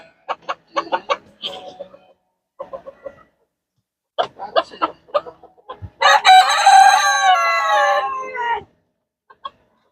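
Hens clucking in short bursts around a rooster's long, loud crow in a backyard coop on a freezing cold day, with a brief final cluck after a quiet pause.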